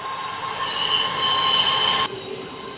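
A big freight train rolls past close by at Bells Rapids, Swan Valley, Perth, with a steady metallic rumble and a high squealing tone from the wheels, easing off near the end.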